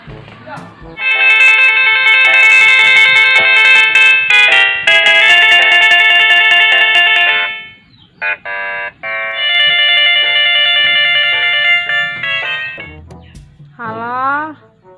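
A phone rings in long electronic tone bursts, loud and harmonic, with short gaps between repeats and a warbling sweep at the end.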